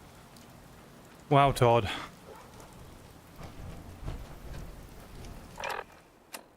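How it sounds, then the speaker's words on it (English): Steady rain falls across the open wasteland in Fallout 4, a soft continuous patter running under brief bursts of nearby speech. "out here it rains"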